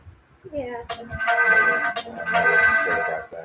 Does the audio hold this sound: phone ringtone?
yes